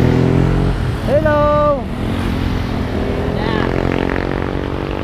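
Several small motorcycles pass close by on a road, their engines droning loud and steady with a rising and falling whine, while people chatter over the noise.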